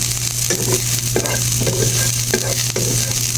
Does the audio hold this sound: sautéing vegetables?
yes